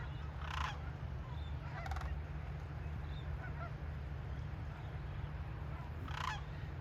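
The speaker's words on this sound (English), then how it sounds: "There's some sandhill cranes." Sandhill cranes give a few short honking calls at a distance, in bursts spaced across the clip, over a steady low wind-like rumble at a migratory waterfowl refuge.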